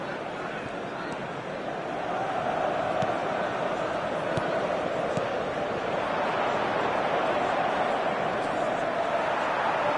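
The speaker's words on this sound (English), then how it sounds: "the crowd clearly like what they just saw" A football video game crowd roars steadily as a broad, continuous wash of noise that swells after the first couple of seconds, with no voices clearly standing out.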